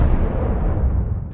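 A deep, sustained rumbling roar of an atomic bomb detonation, with plutonium imploded by surrounding explosive charges, fills the whole moment with dense low-end energy before tapering off.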